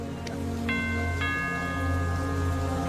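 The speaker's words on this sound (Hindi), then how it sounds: "तभी घर की डोरबेल बजती है" A house doorbell rings in two or three sharp chimes with bright ringing tails, standing clearly over a steady low hum with no one talking.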